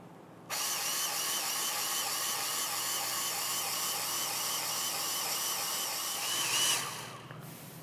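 Grease gun pumping into loader pin grease fittings, a steady high mechanical whir starting abruptly, holding evenly for several seconds, then swelling briefly and cutting off, close by.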